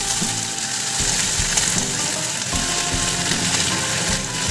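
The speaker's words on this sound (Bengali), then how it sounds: "তো এখন সজনা ডালটাকে একটু ভাজা করে নেব।" Drumstick dal fries in a pan with dry chilli, radhuni and fennel, a close steady sizzle broken by a few clunks of stirring, no talking.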